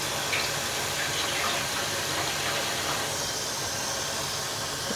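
Tap water runs steadily into a tub for rinsing hand-dyed yarn, a continuous broadband splashing rush heard alone at moderate level for the whole stretch.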